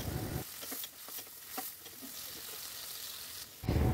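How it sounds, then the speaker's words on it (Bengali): Chopped onions frying lightly in hot oil, a soft continuous sizzle with a few faint scrapes, close but quiet, with brief louder bursts at the start and end. "তেল গরম হয়ে এলে এতে একে একে দিয়ে দিচ্ছি পেঁয়াজ কুচি। একটু হালকা করে ভেজে নিচ্ছি।"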